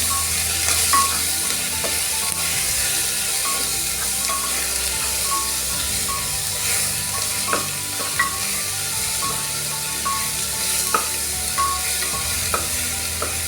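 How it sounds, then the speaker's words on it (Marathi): Vegetables with chopped tomato for masala bhaat are stirred and mixed in a sizzling pan, a loud, continuous frying hiss with repeated scraping and clinking of the spoon throughout. "आता आपण भाज्या मिक्स करणार आहे"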